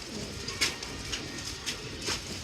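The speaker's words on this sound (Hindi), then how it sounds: "ये कबूतर है।" Pigeons at a loft, soft low cooing with faint bird calls and rustling in the background, moderately close and without speech.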